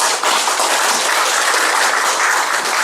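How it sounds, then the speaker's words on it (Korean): An audience at a Korean political party academy lecture applauds to welcome a guest, a dense, continuous wash of many hands clapping at even loudness throughout, with no talk over it. "자, 박수로 환영해 주시기 바랍니다"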